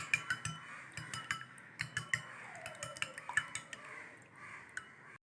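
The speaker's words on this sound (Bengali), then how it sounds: "তো ডিমগুলো এখন আমি ফেটে নিব। ডিমগুলোকে একটু ভালোভাবে মিক্সড করে নিব।" Eggs get beaten briskly in a bowl with a utensil, a close, rapid series of light clinking taps against the bowl's side in an uneven rhythm, with no talking.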